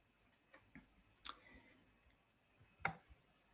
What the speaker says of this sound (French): Je vais cliquer dessus.